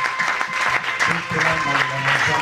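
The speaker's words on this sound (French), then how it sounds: "Nous tous allons acclamer pour Dieu" A church congregation at a Paris dedication service applauds for God with steady, dense clapping throughout, mixed with voices and cheering.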